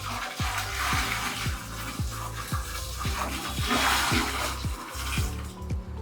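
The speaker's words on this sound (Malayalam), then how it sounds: "ക്ലോസറ്റിലേക്ക് ഒഴിക്കാം" Liquid splashes and gurgles into a toilet bowl, a continuous watery pour with regular gulping glugs from the container.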